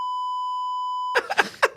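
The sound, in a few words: censor beep sound effect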